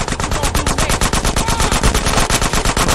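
Rapid automatic gunfire from GTA San Andreas Definitive Edition rattles loud and close, a continuous fast burst of shots without pause.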